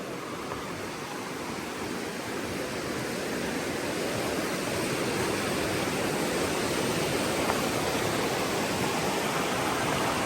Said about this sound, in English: A lot of water flowing.